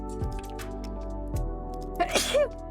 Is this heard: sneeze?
yes